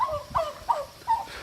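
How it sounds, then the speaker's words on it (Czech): Several turkeys gobble in a quick series of four warbling calls, fairly close and clear, heard outdoors in a rural Czech village with a low rumble underneath and no talking. "Hele, mám krocaní kámoše."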